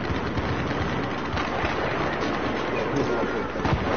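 Battlefield 4 video game gunfire, a dense, loud, unbroken barrage of shots and rumbling blasts that fills the whole stretch without pause.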